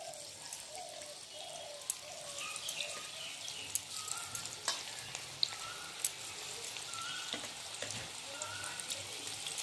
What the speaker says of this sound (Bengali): এবার একটা একটা করে আমি এই কপিগুলো দিয়ে ভেজে নেব।